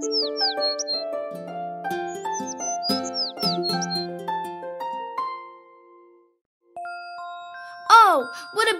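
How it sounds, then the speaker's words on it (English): A bird sings a bright, tinkling run of high chirps and trills, pausing briefly before a final burst of sweeping whistles, with no talking. "Oh, what a beautiful bird, and how beautifully it sings!"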